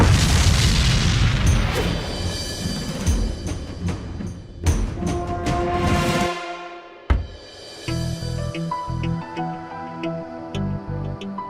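An electrical transformer blows up in a crime drama explosion effect: a loud, heavy boom with rumbling debris, followed by crackling, ringing tones and a sharp secondary crack.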